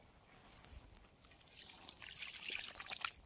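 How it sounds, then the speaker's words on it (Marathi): River fish being washed by hand in water outdoors, with quiet trickling and dripping that grows into denser splashing and sloshing partway through, faint and close, no talk. "आता धुवून घेऊ पाण्यात टाकून"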